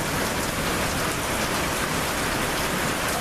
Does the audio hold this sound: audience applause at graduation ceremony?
no